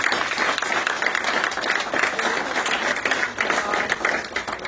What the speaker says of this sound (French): Je vous donne une bonne main d'applaudissements.